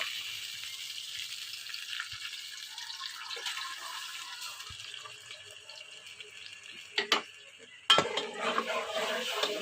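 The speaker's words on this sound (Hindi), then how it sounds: "मसाले को हम अच्छे से भून लेंगे।" Masala paste of garlic, ginger and onion cooks with tomatoes in a pan for an aloo masoor curry, giving a steady soft sizzle with a few sharp clinks of a utensil near the end.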